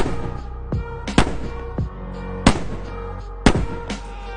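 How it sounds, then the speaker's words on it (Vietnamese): Gunshots in a film scene go off one after another, five sharp loud cracks spaced irregularly about a second apart over a low rumbling background, with no talk. "Tiếng súng lần lượt nổ."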